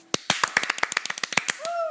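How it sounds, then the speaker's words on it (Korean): A small studio group gives quick, scattered applause on a radio-style talk show, a short burst of separate sharp claps that fades within two seconds. "박수."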